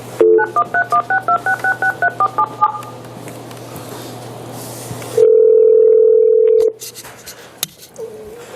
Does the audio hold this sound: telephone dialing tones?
yes